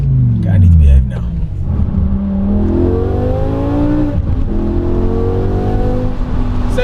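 BMW 850i fitted with a V10 engine revving hard, a loud sweeping engine roar with rising and falling pitch that climbs through several pulls, close up and continuous throughout.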